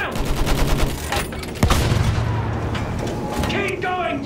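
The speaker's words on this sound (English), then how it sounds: "Use the MG! Sweep the ground!" Machine gun fire in the Battlefield 1 single-player campaign rattles in loud sustained bursts with heavy booms and explosions, while a voice shouts over the battle.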